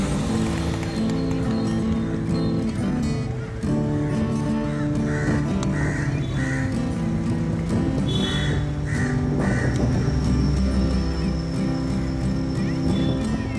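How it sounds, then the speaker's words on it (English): Crows caw in short repeated bursts over a busy, steady street din near Negombo Beach in Sri Lanka, with traffic rumble and distant voices beneath. "These crows. Or ravens, I think they're crows."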